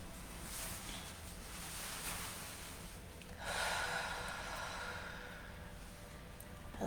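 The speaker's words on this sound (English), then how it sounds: "taking a breath, breathing in and breathing out" Slow, soft breathing in and out during a calm meditation, a faint airy inhale followed by a longer, louder exhale with a gentle hiss, set against quiet background noise.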